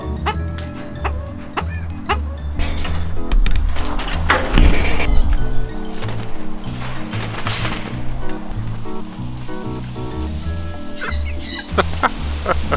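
Chickens and other fowl cluck and call repeatedly at a desert campground, loud and close, with a steady chorus of poultry and occasional barking.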